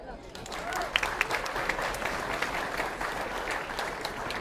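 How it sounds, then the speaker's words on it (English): Applause from passengers for the crew aboard the cruise ship Ovation of the Seas, a sustained, fairly faint wash of clapping with scattered sharper claps and a low background rumble, no speech over it. "please join me in a big round of applause for the entire crew here on board the Ovation of the Seas"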